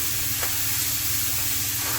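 Red onions sizzling and frying in a pan over medium heat, a continuous soft hiss with faint crackles, close and steady throughout.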